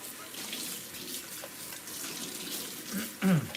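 Tap water runs steadily as a brand-new cocktail shaker is rinsed under a faucet, a soft continuous hiss with a brief splashier burst near the end.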